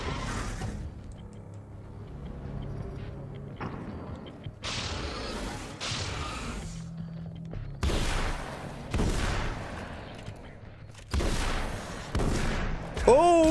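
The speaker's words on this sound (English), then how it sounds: "I actually kind of like this shotgun" A shotgun fires in Alan Wake's American Nightmare: several sharp, loud blasts spaced a second or two apart, each with a brief tail, over a low game ambience.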